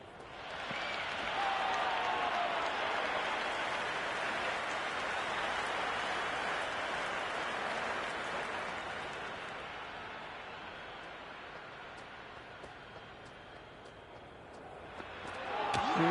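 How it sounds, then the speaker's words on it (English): Sustained crowd roar and cheering from a cricket match in the video game Cricket 26, a dense wash of noise that stays loud for most of the stretch and eases slightly toward the end. "It's evident and ever so audible that the crowd is at near bursting point with excitement at today's play."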